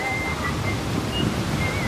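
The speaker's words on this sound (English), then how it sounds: "You can hear the waterfall." A waterfall near Mount Fuji, heard from a cafe beside it, gives a steady broadband rushing roar that stays constant and fairly close throughout, with no voices.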